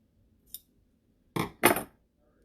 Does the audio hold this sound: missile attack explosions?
no